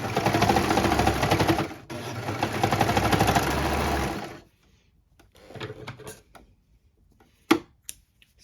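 A sewing machine runs in two loud, steady bursts of rapid stitching on fabric for a cutaway footie, then stops, leaving quiet handling noises and a sharp click.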